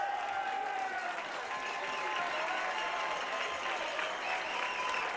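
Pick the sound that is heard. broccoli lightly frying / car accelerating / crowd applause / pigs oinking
crowd applause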